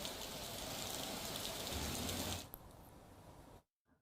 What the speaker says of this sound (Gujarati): ભરૂચમાં મધ્ય ગુજરાતમાં દક્ષિણ અને મધ્ય ગુજરાતમાં ધોધમાર વરસાદ વરસી રહ્યો છે।